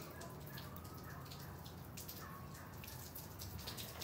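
Light winter rain in California, a steady faint patter of scattered drops and drips on surfaces, continuous and even with no voices.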